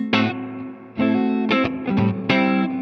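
Electric guitar through a Marshall Bluesbreaker amp with the reverb turned down slightly, picking a few ringing chords and notes in separate strokes, each left to sustain and decay with a gentle reverb tail.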